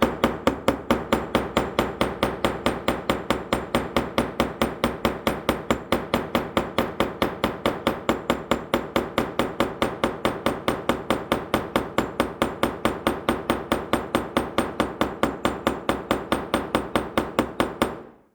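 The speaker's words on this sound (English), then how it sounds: "Don't rush it, don't do it with large whacks, just gentle tapping." Steady gentle hammer taps while assembling a custom Swiss Army knife, working progressively from each side: a fast, even series of light metallic strikes, close and clear, continuing for about eighteen seconds with no talking.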